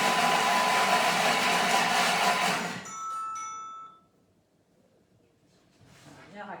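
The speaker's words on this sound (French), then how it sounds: "On met le couvercle, le gobelet doseur et on va mixer 5 secondes vitesse 5." A Thermomix chops shallots for a vinaigrette at speed 5, giving a loud steady motor whir that winds down after about three seconds, followed by quiet and faint clatter.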